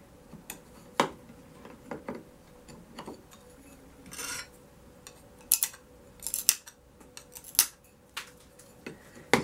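Pliers nibble small pieces off stained glass in a series of sharp, close crunching snips with short gaps between them, fairly quiet, with no voices.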